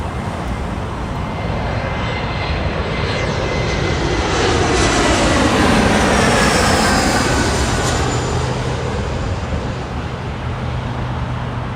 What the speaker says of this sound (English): That Alaska Airlines UNCF livery heading off as Alaska Flight